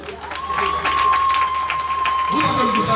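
Concert audience applauding and cheering for a band, a broad steady wash of clapping and crowd noise throughout, with a sustained tone running across it and some voices rising near the end.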